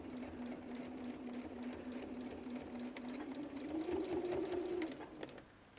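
Sewing machine stitching fabric during an appliqué and bag-making craft session, a steady fine whir with a continuous low drone that rises slightly in pitch near the end before easing off, heard alone without talk.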